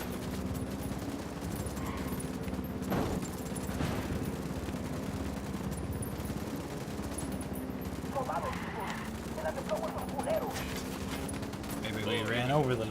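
Ghost Recon Wildlands firefight with steady bursts of automatic rifle fire and scattered single shots going on for several seconds, mostly fairly distant and soft, under a low engine-like drone, with someone talking over it now and then.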